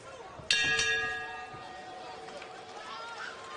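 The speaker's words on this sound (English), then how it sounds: "Obey the bell here, guys." A single bright boxing ring bell clangs and rings out during a professional fight, fading slowly over crowd noise and a voice talking.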